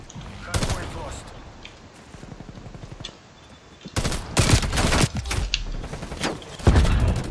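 AUG rifle fire in Black Ops Cold War multiplayer on a hardpoint match: sharp bursts of automatic shots in separate volleys, loudest near the end, with faint voices in the background.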